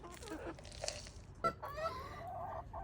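Several hens cluck and squawk in short, overlapping bursts while being fed mealworms in a backyard coop, with one louder sharp call midway, steady and fairly close.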